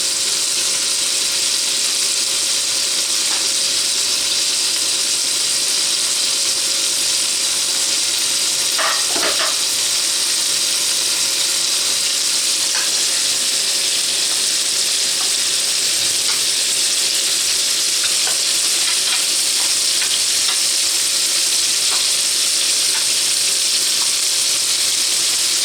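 Onion fries in a pan for chicken cooked in 7UP, giving a loud, steady, broadband sizzle and hiss that runs unbroken throughout, with a few faint clicks and no talk.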